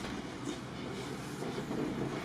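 El Chepe passenger train rolling through Mexico's Copper Canyon on a working freight railway, heard as a steady, close rumble of wheels and car noise with a soft rhythmic clatter, continuous and without voices.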